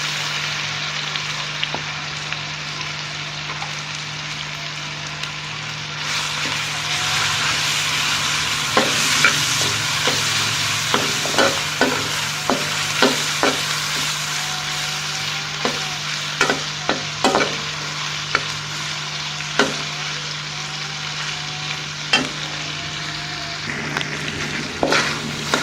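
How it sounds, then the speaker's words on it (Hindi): Chicken fries with garlic paste in a hot wok under a constant loud sizzle, punctuated by repeated sharp clanks and scrapes from a metal spatula stirring the pan. "लहसुन का पेस्ट डालने के बाद इसमें चिकन ऐड कर देंगे।"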